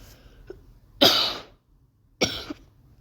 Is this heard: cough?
yes